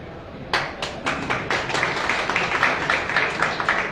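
Thin, scattered clapping from an audience at a political rally in Maharashtra, starting with a few isolated claps and building into light, uneven applause.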